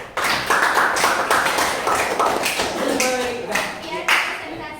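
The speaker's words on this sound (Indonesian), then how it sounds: "Oke, tepuk tangan." A classroom audience claps after a group presentation, a dense burst of hand claps running several seconds at fairly close range, with voices speaking over the applause.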